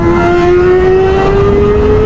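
A motorcycle with no exhaust fitted runs loud and close, its raw engine drone holding steady and edging slightly higher in pitch throughout.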